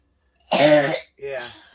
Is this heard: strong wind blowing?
no